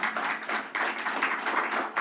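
An audience at a governor's announcement applauds, a dense steady patter of many hands clapping with small swells, continuous and fairly close.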